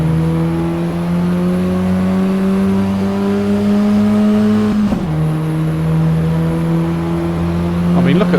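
A Ford Escort Cosworth engine in the Assetto Corsa Evo driving game drones loudly through a long steady pull, then briefly drops with a gear change and climbs again, a constant close in-car engine tone.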